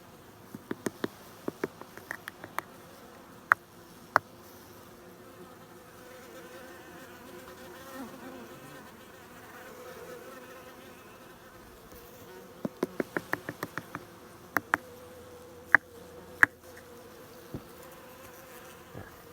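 A constant soft hum of many honey bees buzzing around hives, punctuated by sharp clicks and clusters of rapid tapping, with no talking.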